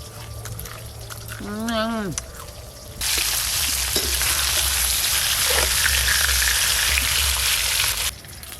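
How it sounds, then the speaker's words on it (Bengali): Silver carp pieces hiss loudly as they fry in hot oil, a dense sizzle that starts abruptly and holds steady for about five seconds, after a short stretch of background noise and a brief voice. "দেখতে দেখতে এই মাছগুলো ভাজা হয়ে গেল"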